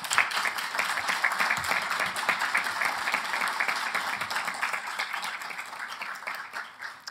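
Audience applause at an academic event marking a government school's anniversary, a sustained dense clapping from a large crowd, even and steady, gradually thinning toward the end.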